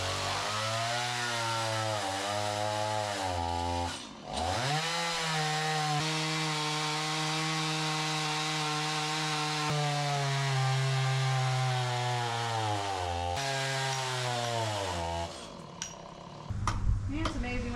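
A chainsaw saws through a massive oak tree, its engine note bogging and recovering as the chain bites, loud and close for most of the span, with a brief drop around four seconds and a burst of rougher noise at the end.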